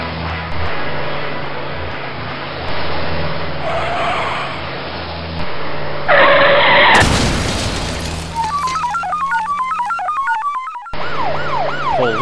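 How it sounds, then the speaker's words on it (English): A police car passes with screeching tires and a thud, then its siren wails in rising and falling sweeps, loud and close, among other short traffic sounds and no speech. "Police car."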